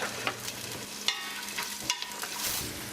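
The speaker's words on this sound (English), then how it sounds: "Add half a cup of oil and start by browning the Spanish onions." Spanish onions brown in half a cup of hot oil, a soft continuous sizzle broken by a few sharp clinks and scrapes of a spoon stirring against the pan.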